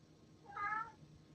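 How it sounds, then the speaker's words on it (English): A house cat gives a single short, faint meow, rising and falling over about half a second against a quiet room background. "Sorry about the cat."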